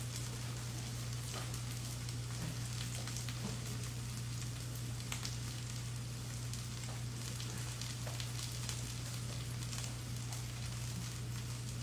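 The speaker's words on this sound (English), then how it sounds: "I don't want to stick my face over this while butter is sizzling" Butter sizzling in a pan on a hot plate, a faint continuous crackle and hiss with a low steady hum underneath, with scattered small pops and no voices.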